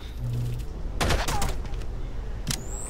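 A burst of rapid gunfire from a hard-kicking gun in the tactical shooter Rainbow Six Vegas cracks out loudly at close range, followed a beat later by a single sharp shot, over low background game noise.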